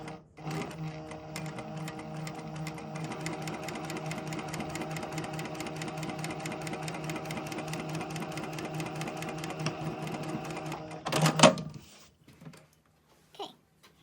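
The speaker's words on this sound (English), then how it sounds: "once they're matched, we're going to continue sewing." A sewing machine runs steadily for about eleven seconds while stitching an outside corner of fabric, a close, even mechanical whir that stops abruptly, followed by a few faint handling sounds.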